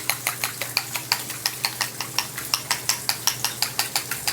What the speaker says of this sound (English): This is the way you scramble the eggs.